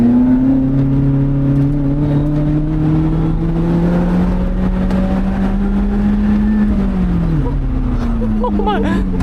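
Lotus Elise engine drones steadily and loud from inside the cabin on a twisty road with blind corners and hairpins, its pitch rising and falling gently with the throttle, with a brief dip before climbing again.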